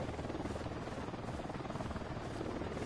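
A helicopter circles overhead during Ghost Recon gameplay, its steady rotor drone filling the whole stretch at an even, continuous level with no talk over it.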